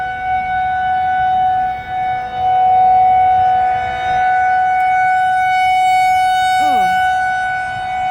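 Tornado civil defense sirens wail loudly during a storm, a steady sustained tone with harmonics holding throughout, with a brief spoken exclamation near the start.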